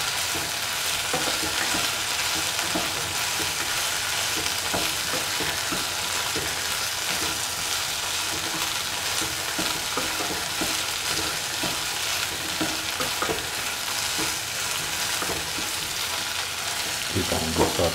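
Taro root pieces being sautéed with green chilli and salt, a loud continuous frying hiss layered with repeated spatula scrapes and stirring clatter throughout, with no one speaking.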